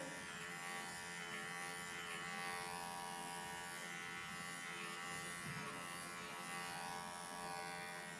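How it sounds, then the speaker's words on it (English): Electric clippers buzz steadily and close while trimming the fur on an angora rabbit's back leg, a continuous even hum with slight variations as the blades move through the coat. "this is a part where you have to be careful on the rabbit leg with clippers"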